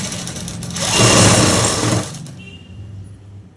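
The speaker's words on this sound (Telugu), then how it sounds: "ఇక్కడ నుంచి మనం కుట్టు వేసేసుకుంటూ వచ్చేసేయాలి" A sewing machine stitches a dress in a steady whirring run, loud and close, lasting about a second and a half before winding down to a low background hum.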